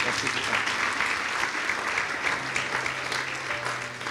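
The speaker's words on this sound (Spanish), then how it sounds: "Demos un aplauso al Señor" Wedding guests in a church applaud together, a steady, full wash of clapping from many hands that carries on evenly throughout with a faint low hum beneath.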